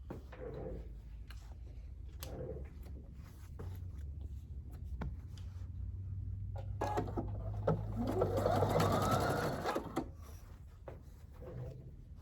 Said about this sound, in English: I'm gonna sew around this entire guy with a 1/4 inch seam allowance.